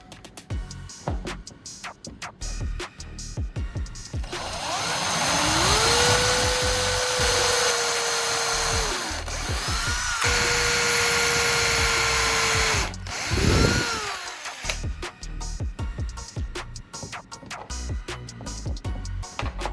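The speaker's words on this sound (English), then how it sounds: "I'll drill the marked holes so I can fasten it with screws." A power drill revs up and bores into wood in two long bursts, separated by a short pause, with clicks and handling noises before and after.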